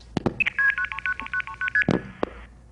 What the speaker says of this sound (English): Multi-frequency is a different set of tones,